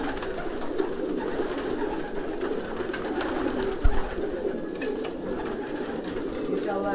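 Racing homing pigeons coo inside a loft, a soft continuous low murmur of many birds close by, with a brief thump partway through and a person speaking over them.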